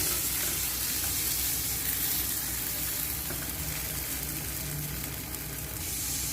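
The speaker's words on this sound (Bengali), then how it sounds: "দিচ্ছি গরম জল মশলার সঙ্গে জল ভালো করে মিশিয়ে নিচ্ছি" Hot water poured onto fried spice paste sets off a loud, continuous hiss and crackle of sizzling in the pan, steady and close with no talking.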